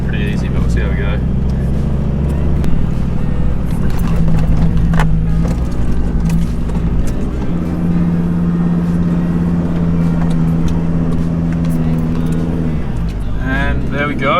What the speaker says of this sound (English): Here we are, Little Red, 4-wheel drive, high range, traction control off.